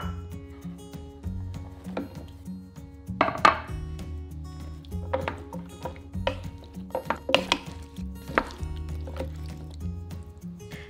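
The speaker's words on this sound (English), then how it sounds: "then place the lid on." A lid is set onto a slow cooker holding chicken casserole with roughly chopped celery, giving a few quiet clinks and knocks around the middle, followed by soft scattered taps in a quiet kitchen.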